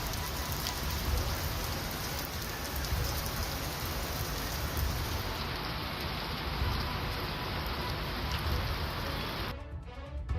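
A heavy downpour in North Karnataka drums steadily on surfaces, a thick uninterrupted roar of rain that holds its level throughout and shifts in texture just before the end.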